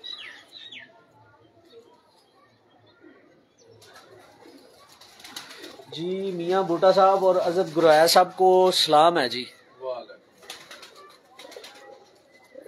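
Pigeons coo softly in the background while someone talks over them, his voice dominating the middle stretch.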